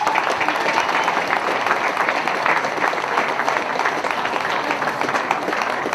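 A crowd applauds at an Ulster Ladies Junior Championship football final between Antrim and Derry, producing a loud, sustained, evenly dense clatter of clapping that holds level throughout without a break.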